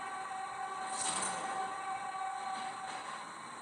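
A train horn honks in a post-apocalyptic block-style video game, sustained and fairly loud with a swell around the first second, continuing steadily to the end with no talk.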